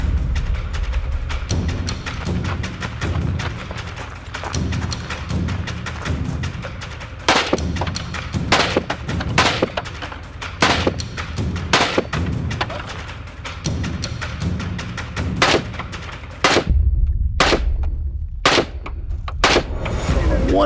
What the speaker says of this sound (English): One or two of those shots might have went off target, but overall, felt like a pretty good run.